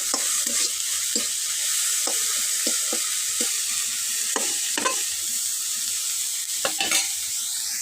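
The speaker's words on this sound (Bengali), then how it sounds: "এই যে আমার চিংড়ি মাছ হালকা ভাজা হয়ে গেছে," Dried shrimp fry with turmeric in a pan, giving a steady sizzle broken by a series of sharp scraping stirs and clinks close up, with no talking.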